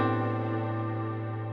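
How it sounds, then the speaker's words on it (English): An electric guitar runs through an ethereal effects pedal, sustaining a single shimmering, swelling tone that hangs steady and fades slightly, close and quiet with no voices. "this is one of those God pedals. It makes your guitar sound like this"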